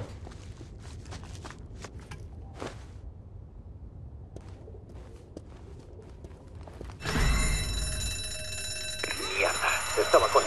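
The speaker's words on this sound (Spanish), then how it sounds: "Estaba conectada a la alarma." An alarm suddenly starts blaring in a zombie video game, a loud, continuous ringing bell that cuts in after quiet footsteps and ambient noise, and keeps sounding until the end.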